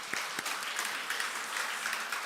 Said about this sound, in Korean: 한 번 더 아이들에게 격려의 박수 하겠습니다.